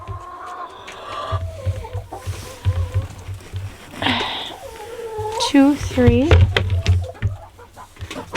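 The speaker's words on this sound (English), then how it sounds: "You're going to make the chickens crazy." Chickens clucking inside a coop in snowy weather, with soft, repeated clucks and squawks throughout and a few louder calls. A person talks over them and counts aloud.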